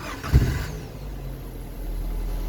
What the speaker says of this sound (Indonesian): Kita bisa coba hidupkan mesinnya.